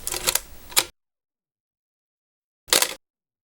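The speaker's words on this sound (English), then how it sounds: "the shutter can be fired using the shutter release" Two short mechanical shutter clicks from a Contax RTS film camera, each a brief crisp burst, separated by about two seconds of silence.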